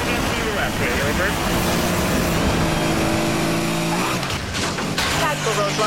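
A red supercar's engine roars at full throttle during a police chase in the Need for Speed Most Wanted video game, loud and continuous, with tires squealing and radio chatter layered over the racing noise.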